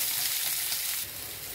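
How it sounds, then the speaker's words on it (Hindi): Sliced onions frying in a little oil in a pan, a steady broadband sizzle that stays loud and close, easing slightly near the end, no speech. "ये देखिए, प्याज लाइट पिंक हो चुके हैं। हमें इससे ज़्यादा इसे फ्राई नहीं करना है।"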